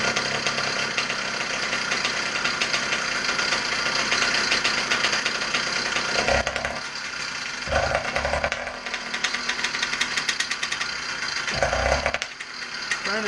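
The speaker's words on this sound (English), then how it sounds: "Trying to choke it off enough where it actually slows the motor down." Motorized bicycle two-stroke engine running loud and steady with a buzzing rattle, while being choked so it bogs and dips in speed several times.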